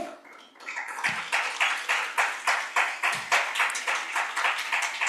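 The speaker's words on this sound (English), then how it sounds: "A huge cheer." An audience at a corporate learning and development festival breaks into sustained rhythmic clapping to welcome a panelist, close and steady throughout with no speech.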